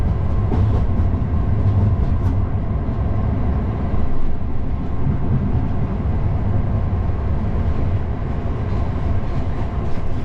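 A continuous low rumble of a Class 59 freight locomotive rolling on rails on the West London line, with steady clattering wheel noise and no voices, loud and close throughout.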